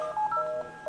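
Phone modem dialing tones ring out as a quick run of clean, steady pure-tone beeps, loud and close, with no voices.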